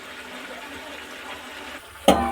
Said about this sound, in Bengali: চিংড়ি মাছ আর ফুলকপিটা দিয়েছি, ভালো করে কষিয়ে তারপরে জল দেবো আমি